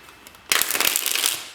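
A deck of tarot cards is shuffled in one burst of riffling and crisp flicking lasting about a second, after a short quiet lead-in.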